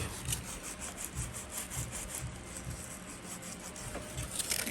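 Sanding a mosaic tile clock smooth produces a soft, continuous rhythmic scraping of back-and-forth strokes, faint and close, with no voices.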